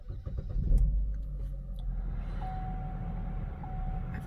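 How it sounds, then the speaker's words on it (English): A 2012 Buick Verano is started with a push button: the engine cranks briefly, catches and settles into a low, steady idle, with a faint electronic chime close by. "So first, start the vehicle."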